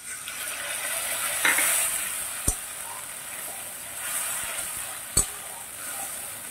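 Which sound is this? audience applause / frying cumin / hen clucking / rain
frying cumin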